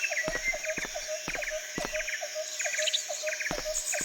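Birds chirp in a Metal Gear Solid 3 jungle scene, repeated quick high tweets in short bursts over a steady insect-like drone, with no one talking.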